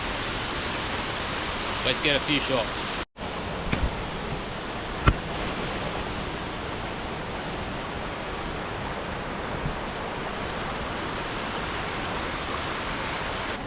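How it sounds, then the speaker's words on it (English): Hopetoun Falls on the Great Ocean Road pours as a constant broadband roar of falling water, steady throughout, with someone speaking briefly early on and a couple of sharp clicks. "here we are at Hopeton Falls."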